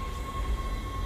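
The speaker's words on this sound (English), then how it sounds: "Tram arriving at flight deck station." A tram pulling into the flight deck station aboard a spaceship in Dead Space, heard as a steady low rumble with a sustained mechanical hum, brief and without speech.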